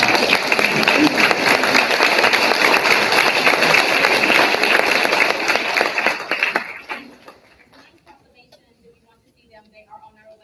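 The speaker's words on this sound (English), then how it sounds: "please stand and let's give them a round of applause." At a school board of education meeting, the audience breaks into applause for assistant principals, loud continuous clapping lasting about six seconds before tapering off into near silence.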